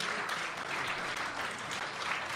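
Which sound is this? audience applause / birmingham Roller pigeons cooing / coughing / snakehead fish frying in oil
audience applause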